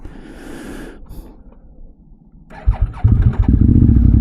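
X-Cape 1200 adventure motorcycle engine cranking over after a brief hiss and quiet pause, catching and settling into a loud, close, throbbing idle with no talk.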